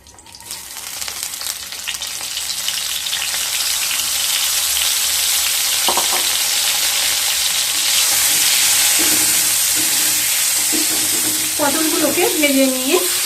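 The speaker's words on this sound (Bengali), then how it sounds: "দিয়ে পটলগুলোকে ভেজে নেব" Pointed gourds (potol) fry in white oil in a pan with a strong, steady sizzle that swells and then holds. Toward the end a few stirring scrapes and clinks of a utensil come through.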